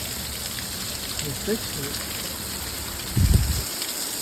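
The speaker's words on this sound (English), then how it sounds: "this downpour is supposed to last about 20 minutes" Heavy rain downpour steadily hissing around a cyclist sheltering under a small outcropping, with a brief voice and a short thump near the end.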